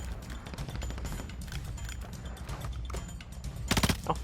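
Gunfire in the mobile shooter Warzone Mobile: dense bursts of automatic shots under a steady rumble of game noise, with a louder, sharper volley near the end.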